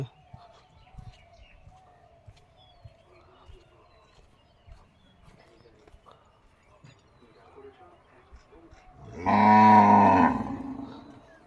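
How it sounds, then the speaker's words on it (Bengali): A loud, drawn-out cow moo near the end, following several seconds of quiet farmyard sounds with faint bird chirps. "গরুগুলা হাম্বাইছে"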